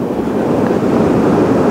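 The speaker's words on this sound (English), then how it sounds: "The wind, the waves." Strong wind roars across the microphone over crashing ocean surf at a beach wedding, a loud, dense, continuous rush with no breaks and no voices.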